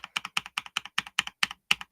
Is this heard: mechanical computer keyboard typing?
yes